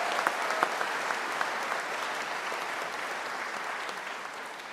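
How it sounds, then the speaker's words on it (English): Applause from an audience at a high school graduation ceremony, a steady wash of many hands clapping with a few sharp claps standing out early, then tapering slightly toward the end. "Let's give them one more round of applause."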